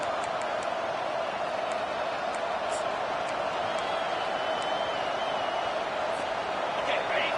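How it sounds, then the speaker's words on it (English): A steady roar of stadium crowd noise at a video game football match fills the background, with faint whistles and cheers rising briefly above the continuous din. "This crowd bringing the energy and noise early."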